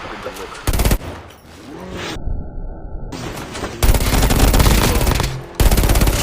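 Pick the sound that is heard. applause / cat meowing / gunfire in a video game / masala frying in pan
gunfire in a video game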